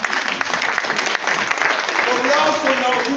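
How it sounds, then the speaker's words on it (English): Applause from an audience at a community meeting in a municipal building, brief and fairly dense, with voices mingling under the clapping. "This is something big round applause."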